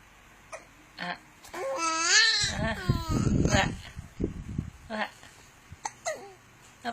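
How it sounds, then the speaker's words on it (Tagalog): An infant hiccups several times in small catches amid babbling and fussy vocal sounds, with an adult talking softly nearby. "Uy, sinok ka."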